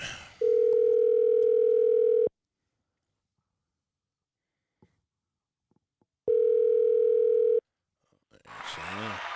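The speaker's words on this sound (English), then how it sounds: "We are going to call Elle and get a woman's perspective on this" A steady telephone tone sounds for about two seconds, then silence, then another burst of the tone, followed by noisy rustling at the end.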